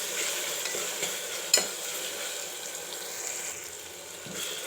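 Tomatoes with ginger garlic paste being stirred in a pan, a soft steady sizzle with light scraping and one sharp utensil tap, no voices.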